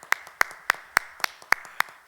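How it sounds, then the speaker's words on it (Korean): Church congregation at a Korean service clapping in unison to welcome visitors, about seven sharp, evenly spaced claps in a steady rhythm, close and clear. "우리가 박수로 축복하고 환영하겠습니다."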